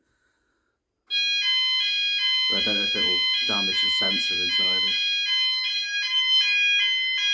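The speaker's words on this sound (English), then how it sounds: "That's the sounder going off." A loud, continuous electronic tone from an EMS 5000 Firepoint home fire alarm sounder blares steadily after a moment of silence, with someone speaking briefly over it.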